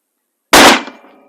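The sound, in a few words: Savage Axis 6.5 Creedmoor rifle shot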